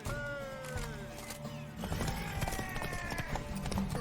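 Horse hooves clop and pound at a gallop during a horse race in the video game The Witcher 3, over a steady bed of music and game effects, with rhythmic thuds growing busier midway.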